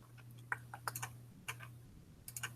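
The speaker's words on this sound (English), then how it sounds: "Typing away." Someone types on a computer keyboard in short uneven bursts of crisp clicks, quiet and close, over a faint low electrical hum that drops out briefly in places.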